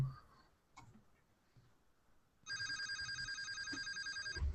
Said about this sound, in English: A phone rings.